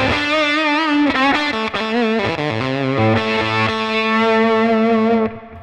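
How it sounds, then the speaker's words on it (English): Electric guitar played through a Tonex One pedal on its Mad Fuzz preset, modelling a cranked Fender 57 Custom Deluxe amp, rings out as loud, sustained fuzzy chords and note changes before fading at the end. "we've got a Mad Fuzz. Which is a Fender 57 Custom Deluxe."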